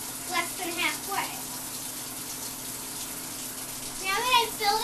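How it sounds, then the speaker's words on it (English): Well water gushes steadily into a washing machine as it fills, a continuous rushing stream heard close, with a voice speaking over it at the start and end. "Since we have well water, I only need to fill it up less than halfway."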